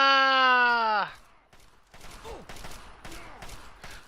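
Rapid gunfire in VATS mode in the video game Fallout 3, a burst of several quick shots following a long sustained tone, moderately loud with no talking.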